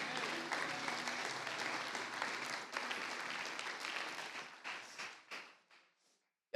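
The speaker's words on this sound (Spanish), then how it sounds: "Dale un fuerte aplauso al Señor" A church congregation breaks into loud sustained applause that thins into scattered claps and fades out near the end.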